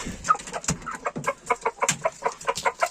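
Chickens cluck in a rapid, busy series of short calls alongside a prized rooster in a backyard flock, several birds close by and loud, the clucks tumbling over one another with no talk.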